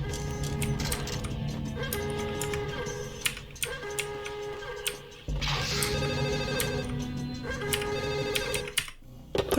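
A telephone rings repeatedly in the video game Max Payne, a series of bright electronic rings with short gaps between bursts, heard clearly over a quiet ambient background.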